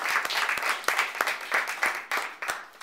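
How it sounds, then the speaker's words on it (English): A small audience on a college campus claps to welcome a panel of students with learning disabilities, with individual hand claps clearly audible in an uneven, rolling rhythm that rises and falls, close and moderately loud. "let's give a round of applause just to welcome our panel"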